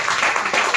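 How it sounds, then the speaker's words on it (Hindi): An audience at a large indoor gathering claps together in a brief, dense burst of applause that stays loud and steady across the short moment. "हाँ यार ताली बजाओ यार"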